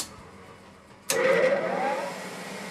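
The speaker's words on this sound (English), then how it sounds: "our block's getting its deck surfaced" A deck-surfacing machine works a Chevrolet 409 engine block: after a second of low hum it starts abruptly into a loud, steady whirring grind that carries on evenly to the end.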